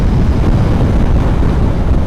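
Strong wind batters a raincoat on a rider of a KTM Duke 390 motorcycle on the road toward Ladakh. It makes a loud, steady roar with rough flapping buffets that continues without a break.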